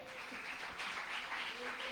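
Congregation clapping during a Spanish-language sermon on eschatology, a steady broadband wash of applause filling the whole moment with faint voices mixed in.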